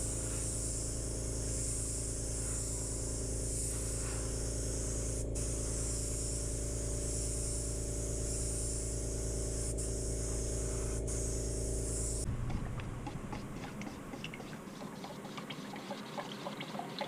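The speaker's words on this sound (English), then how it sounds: "So right now I'm just going to spray the lacquer on." A long unbroken spray hiss of lacquer going onto a wooden shoe and storage bench, over a steady compressor or motor hum, ending abruptly into softer clattering and handling noise.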